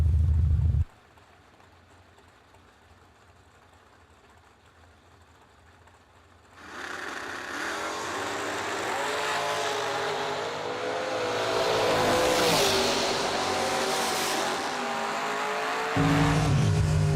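Old school bracket drag racing: a dragster and a Mopar launch and race down the strip, a brief low rumble, a quiet lull, then a loud sustained engine roar with shifting tones that swells and holds to the end.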